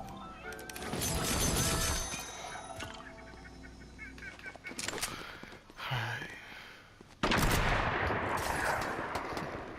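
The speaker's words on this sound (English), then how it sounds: "I just got sniped at." Video game gunfire with a sniper shooting, loud dense cracks and bursts crowding together, a lull, then another abrupt heavy volley that keeps rumbling on.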